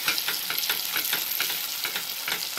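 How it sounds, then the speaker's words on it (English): Busy, crackling sizzle of sausages and pepper frying in a hot pan, with rhythmic stirring scrapes repeating throughout, close and fairly loud. "So you keep frying up those sausages."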